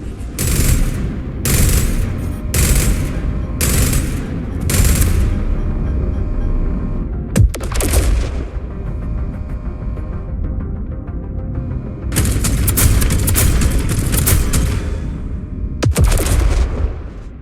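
Ship weapons in the Jump Ship game fire repeatedly as loud, close bursts of rapid shots, with sharp booming impacts and stretches of sustained rumble between volleys.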